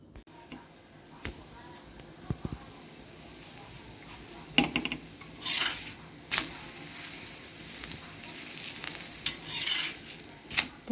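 Thick wheat kofta naan dough, sprinkled with coriander, sits on a hot tawa and gives off a soft, faint sizzle. Occasional scraping and stirring clicks break in, with no one speaking.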